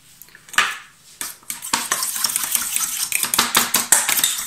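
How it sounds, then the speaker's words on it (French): Tomato paste being stirred into a sauce in a bowl while cooking beer chicken: a utensil clinks and scrapes repeatedly against the bowl in quick, irregular strokes, close and fairly loud. "Voilà, je mélange bien."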